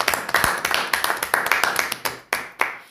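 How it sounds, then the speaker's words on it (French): Clapping at a French-speaking church gathering, rhythmic rounds of hand claps close by, fairly steady in tempo with a few louder accents, some voices faintly mixed in. "Applaudissons pour le Seigneur"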